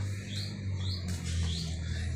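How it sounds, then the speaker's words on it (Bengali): A mother bird chirps at a village nest while her chick is held, a few sparse rising tweets spaced apart over a low steady hum, moderately close. "কিচিরমিচির করতেছে কারণ আমি ওর বাচ্চাকে ধরছি"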